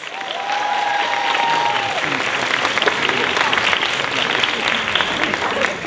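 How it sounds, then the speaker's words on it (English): Sustained applause from a crowd at the AUSA 2015 cosplay masquerade, steady and fairly loud clapping that rises quickly and holds, with a brief tonal sweep near the start. "One more round of applause."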